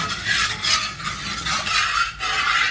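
Cornflour face cream mixture stirred steadily in a bowl, a bright continuous scraping and rubbing in repeated strokes, close and fairly loud, with no talking.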